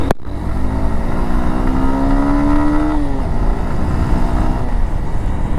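A Honda Hornet motorcycle engine revs up steadily to a high whine near the redline, then drops back to a loud, rumbling idle, close by.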